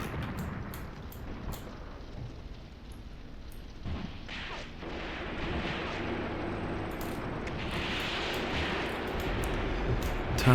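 Artillery fire booms in the Graviteam Tactics war game, with a few sharp distant blasts over a broad rumbling battlefield wash that grows denser and louder toward the end.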